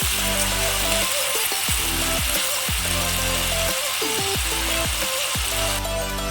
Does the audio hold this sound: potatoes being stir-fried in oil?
yes